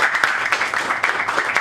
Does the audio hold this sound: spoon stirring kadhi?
no